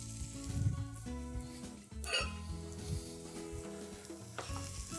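Leek being stirred into cheese with steady wet, scraping mixing sounds and a sizzly hiss throughout, close and continuous, with a sharper knock near the middle.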